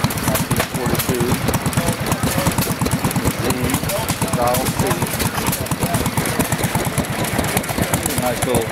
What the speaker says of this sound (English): Nice little engine.